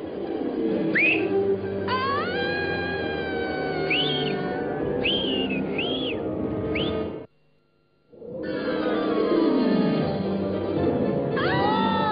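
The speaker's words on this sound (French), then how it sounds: "Grâce au coup de sifflet de Sonic" Sonic the Hedgehog blows a whistle in the SatAM cartoon, French dub, giving several short rising whistle blasts over busy music and effects, broken by a brief near-silent gap before the whistling resumes.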